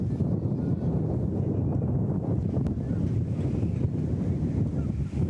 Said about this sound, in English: it is unbelievably windy here